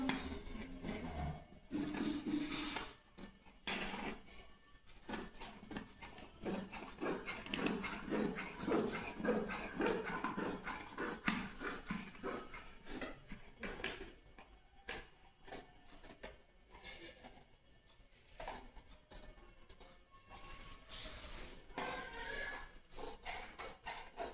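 Scissors snip through fabric while a salwar is cut out, a long run of quick, crisp cutting clicks and rustles close by, with occasional short pauses and faint background noise.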